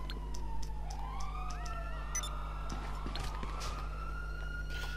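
Police car siren in GTA 5 Online, a wailing siren sweeping up and down during a chase, over a steady low engine hum and scattered clicks and bumps.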